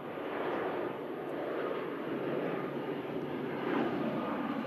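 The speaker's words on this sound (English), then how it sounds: "Here's a second Singapore aircraft out to Houston." A Singapore Airlines aircraft departing Manchester Airport for Houston, a steady, distant roar of engines that swells slightly toward the end.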